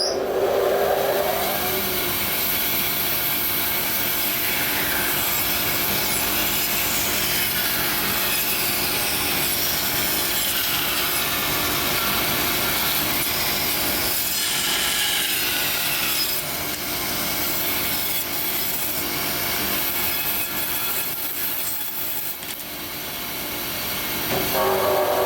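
A hand saw rasps through a wooden end grain cutting board in steady, continuous back-and-forth strokes, close and loud, with no talking.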